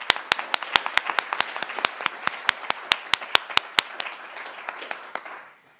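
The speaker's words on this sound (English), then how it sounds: "can we give him a round of applause?" Close, crisp clapping at a students' union awards ceremony, a rapid run of sharp individual claps that thins out and fades to near silence at the end.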